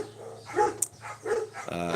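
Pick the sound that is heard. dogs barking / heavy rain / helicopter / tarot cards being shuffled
dogs barking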